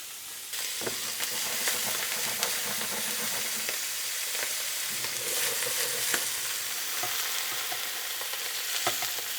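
Lobster tails frying in butter in a pan give a steady crackling sizzle with scattered sharp pops and spatters, close and continuous.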